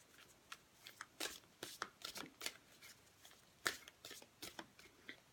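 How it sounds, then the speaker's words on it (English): Oracle cards are shuffled by hand, a quiet, close run of irregular papery flicks and riffles with short pauses between bursts, and no talking. "Pulling an oracle card for you now."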